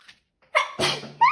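A single person sneezes up close, a sharp, loud burst preceded by a quick inhaling catch and followed by a brief breathy sound.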